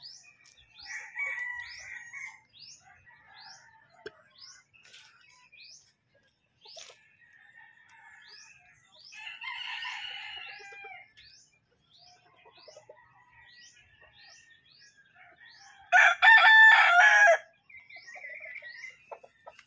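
A rooster crows loudly and close by in a barnyard, one strong call standing out near the end, while other fowl cluck and small birds chirp repeatedly around it.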